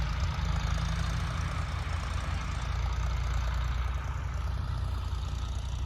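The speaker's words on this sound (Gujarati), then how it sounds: "ટ્રેક્ટર આવી ગયું." A tractor engine idles steadily on a farm field, a constant low rumbling drone with a faint knocking texture, close and unbroken with no talking.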